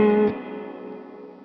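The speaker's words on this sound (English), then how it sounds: "So the Swart has a nice blend of dark and bright reverb tones" A guitar through a UAfx reverb pedal on its Swart setting: one loud strummed chord that cuts off quickly, leaving a long, smooth reverb tail that fades gradually.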